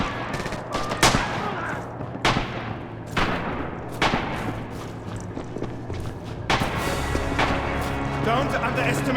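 Gunfire in Red Orchestra 2: Heroes of Stalingrad: loud, close rifle and machine-gun shots crack at irregular intervals over a continuous rumbling battle din, with voices heard through the chaos.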